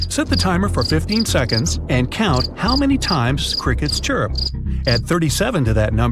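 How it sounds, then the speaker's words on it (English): Crickets chirp steadily in a rapid, even pulse under a person's clear spoken voice. "Set the timer for 15 seconds and count how many times crickets chirp."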